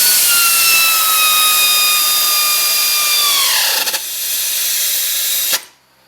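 A pneumatic air gun whirs at high pitch as it tightens an upper control arm bolt on a 2003-2007 Honda Accord, the whine dropping as the bolt seats, then a hissing release before it cuts off.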